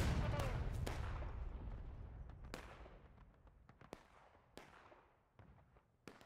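A cannon fires in the War of Rights video game, opening with a heavy boom that decays slowly, followed by scattered sharp distant shots cracking at intervals. Voices talk faintly beneath.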